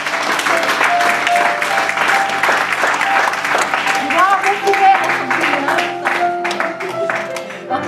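A church congregation at an evening worship service applauds together in sustained, dense clapping that fills the room, with voices and cheering mixed in throughout.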